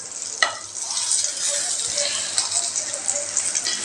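Eggplant slices frying in oil and being flipped, giving a bright, busy crackle and spatter up close, opening with one sharp knock of a spatula.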